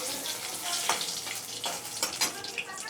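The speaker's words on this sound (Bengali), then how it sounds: "এতে আমি জিরা ফোড়ন দিচ্ছি, একটা তেজপাতা ছিঁড়ে দিয়ে দিলাম, একটা শুকনো লঙ্কা" Cumin seeds, a torn bay leaf and a dried chilli frying in hot oil give a close, steady crackling sizzle with small bursts of popping throughout.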